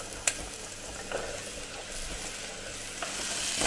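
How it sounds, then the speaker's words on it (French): Parsnips sizzle in hot olive oil in a pan, with occasional scraping stirs and a sharp clink near the start. "On va faire revenir un petit peu les panais."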